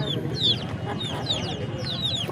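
Roosters and hens at a Saturday hen market in Mydukur cluck in short, repeated calls amid a steady crowd murmur, with people talking throughout.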